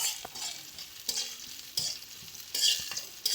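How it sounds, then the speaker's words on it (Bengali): Raw banana curry with chopped onion frying in a pan, stirred in several distinct scraping sweeps over a steady quiet sizzle, close up with no talk. "ভালো করে এটাকে কিছুক্ষণ নাড়াচাড়া করে নিচ্ছি"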